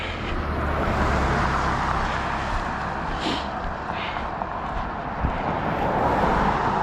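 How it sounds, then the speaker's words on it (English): Steady road traffic passing close by a pedestrian walking along a curb with a narrow breakdown lane in Lewiston, Maine, a continuous loud roar with vehicles swelling past one after another, no talk. "with the traffic coming towards me"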